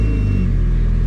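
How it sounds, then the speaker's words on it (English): A Honda Civic with a cold air intake idles just after starting, a loud, close, steady low engine rumble over a very brief moment. "let's start up the car"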